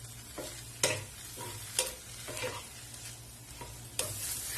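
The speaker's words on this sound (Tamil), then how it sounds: "இதுல வந்துட்டு நம்ம பிளான்ச் பண்ணி வச்சிருக்கிற இந்த ப்ரோக்கலி இருக்குதுல்ல, அதை போட்டு லேசா சாட்டே பண்ணிக்க" Blanched broccoli sautés in butter in a pan, with a soft, quiet sizzle broken by repeated sharp scrapes and stirs of a spatula at irregular intervals, close by and without any talking.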